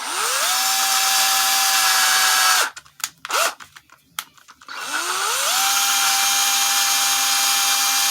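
A power drill with a number 40 bit whirs up to a steady high whine drilling holes in sheet metal, stops for a few clattering bumps, then spins up again and runs steadily.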